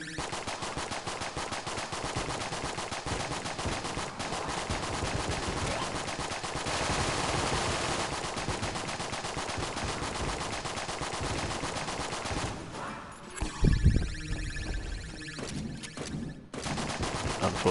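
Weapon fire from Enter the Gungeon, a dense continuous volley of rapid game gunshots running throughout, with a brief heavier burst near the end and no talking.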